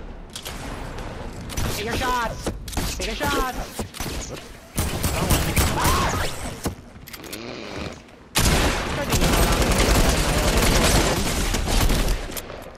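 Rapid bursts of gunfire in Fortnite, repeated volleys of shots in fast automatic strings with short pauses, loud and close, with players talking over the firing.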